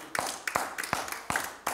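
Congregation hand clapping in a church service, a steady run of six sharp claps spaced roughly a third of a second apart, close and crisp.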